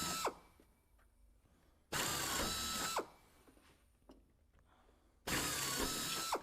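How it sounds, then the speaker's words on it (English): Bursts of an air drill enlarge a hole through an aircraft wing spar during left wing work, three loud whining runs spinning up instantly and stopping abruptly, with quieter mechanical clicks between them. "one of the reasons for having that air drill is you see how immediate it starts to go"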